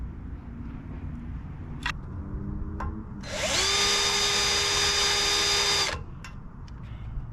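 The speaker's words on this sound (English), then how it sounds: "we'll drill the holes" A power drill whirs loudly for a few seconds, drilling holes for boat trailer LED lights, rising in pitch as it spins up, then cuts off, with quieter handling noises before and after.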